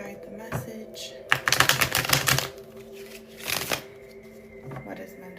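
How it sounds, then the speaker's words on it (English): Tarot cards shuffled by hand during a live reading, a brief riffle then a dense burst of rapid flapping clicks, another short riffle, then quieter handling, close and clear with faint voice traces. "I'm going to be doing some shuffling, just letting spirit guide the message."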